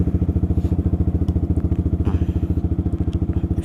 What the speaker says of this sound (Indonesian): cuman keluar desa aja sambil ngedengerin suara knalpot ini